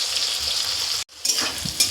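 Malabar spinach stems and potato pieces sizzle steadily in hot oil with a busy, crackling fry, briefly cut off for a moment before the sizzling resumes with occasional stirring scrapes.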